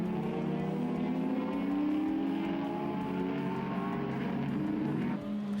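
VW Scirocco and other race cars roar around a circuit in a continuous loud, close engine drone with rising revs and overlapping passing engines throughout.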